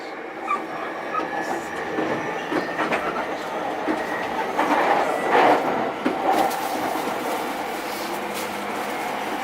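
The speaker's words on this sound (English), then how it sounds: "get to the train station" Riding a commuter train in Tokyo: a steady rumbling ride with rattling and clattering carriage noise, occasional louder bumps and squeaks, and faint background murmur.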